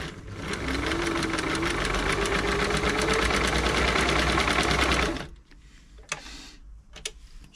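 A Singer 507 sewing machine runs a straight stitch at a steady, rapid, loud mechanical chatter for about five seconds, then stops, leaving a few faint clicks and handling knocks in near silence.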